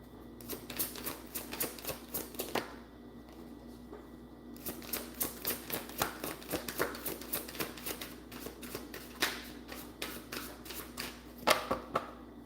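Close, continuous shuffling of a card deck, rapid papery flicks and riffles repeating in quick succession without speech.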